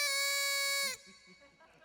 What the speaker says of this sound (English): noisemakers that sound something like a cross between a kazoo and a